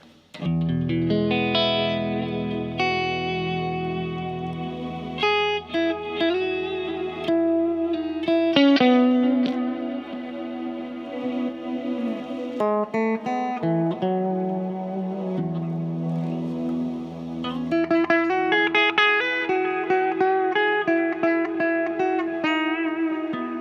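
An electric guitar through a Hughes & Kettner Spirit AmpMan Classic plays sustained notes and chords soaked in delay and reverb, the echoes trailing into a wash of sound, with no voices.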